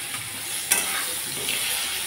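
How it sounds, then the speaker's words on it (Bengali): Pumpkin pieces fry in oil in a pan, a bright steady sizzle with a brief clatter of stirring partway through. "একই প্রসেসে আমি আলুর মতো কুমড়াটাকে লালচে করে ভেজে নেব।"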